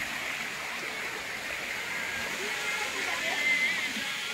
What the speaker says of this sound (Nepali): झरना यही हो